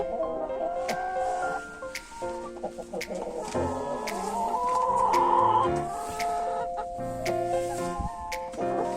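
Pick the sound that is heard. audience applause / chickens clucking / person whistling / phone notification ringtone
chickens clucking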